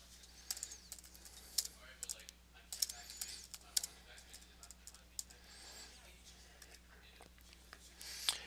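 Quiet clicking keystrokes on a computer keyboard as a chat message is typed, irregular taps and short bursts over a low steady hum.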